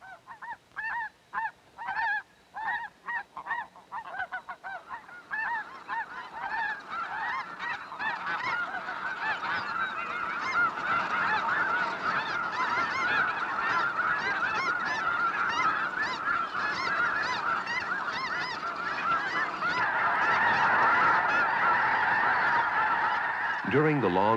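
Arctic geese honk during their southward migration flight, with a few sharp, rhythmic calls at first, then a dense, continuous chorus from a large flock that swells louder toward the end.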